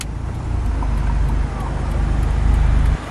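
A loud car rumbles while driving, heard from inside as a heavy, low engine drone with road noise that holds steady across the few seconds, swelling slightly near the end.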